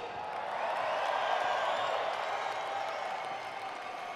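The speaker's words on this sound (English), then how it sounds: "Joel, you got a standing applause right there" A crowd applauds and cheers steadily around the podium at an AMA Endurocross round in Everett, Washington. The sound is a broad, sustained wash of clapping, distant and moderate in level, with a few whoops.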